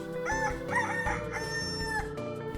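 A rooster's cock-a-doodle-doo crow from the RPG Maker game Cock-a-doodle-doo, a synthetic, fairly loud crow that rings out alone over steady game background sound.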